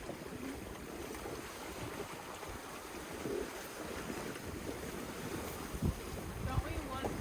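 Strong wind buffets a sailboat running downwind under a spinnaker: a steady, close roar of wind and microphone buffeting over faint water wash, continuous throughout with a few brief louder gusts.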